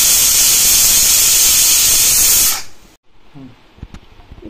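A pressure cooker cooking a ridge gourd, methi and moong dal curry vents steam in a loud, sustained whistling hiss that cuts off after about two and a half seconds, leaving quiet kitchen clatter.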